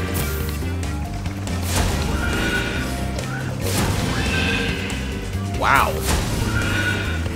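A distorted horse whinny sound effect from a Spyro video game rises briefly and loudly near the end, set against busy game music and effects, with a voice reacting over it.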